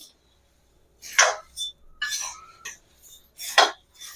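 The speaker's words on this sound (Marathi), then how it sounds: "चिरमुरे कढईमध्ये घातले की सतत हलवत राहायचे नाहीतर ते करपतात" Puffed rice (chirmure) is roasted in a kadai with constant stirring. Bursts of dry scraping and rustling come in separate strokes between short silences, close and clear.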